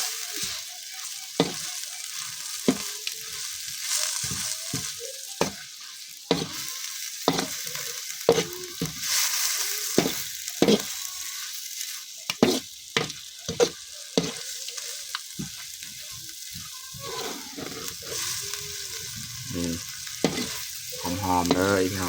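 Meat stir-fried with holy basil in a hot pan, loud continuous sizzling broken by frequent sharp scrapes and clanks of a spatula, close and busy, with no talking.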